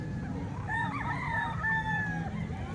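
One rooster at a poultry market in the Philippines gives a wavering crow of moderate loudness, heard fairly near above a low hum of crowd noise.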